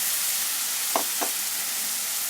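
Browned onions and tomato paste fry in a pan for village-style aloo methi, giving a steady loud hiss with two brief scraping stirs in the middle.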